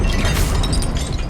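A Confringo blasting spell exploding in the Hogwarts Legacy video game, a loud, dense burst of booming, crackling blast noise filling the whole brief moment without speech.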